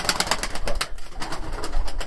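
Abdal Arab tumbler pigeons from Konya coo in short, repeated bursts close by, with rustling and soft pulses running through the calls.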